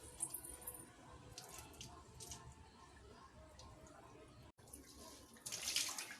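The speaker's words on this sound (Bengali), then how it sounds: "চালটা ধুয়ে নিই" Rice being rinsed under a running kitchen tap while khichuri is prepared, a steady faint trickle and splash of water with a louder gush near the end, no talking.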